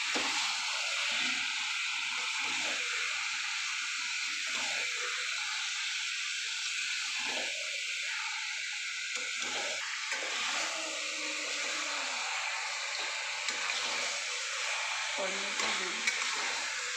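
Spice masala for a country-style chicken kosha is fried in a pan, giving a steady, close sizzle that continues for the whole stretch, with a little stirring and scraping mixed in.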